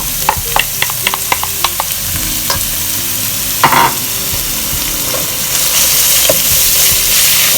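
Shredded carrot rice being stirred and fried in a pan, a run of sharp scraping clicks from a utensil over a steady sizzle that swells louder toward the end, close and without talk.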